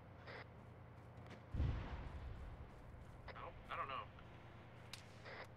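Gunfire in the military video game Arma: a heavy, booming report followed by scattered distant shots over a constant low background rumble.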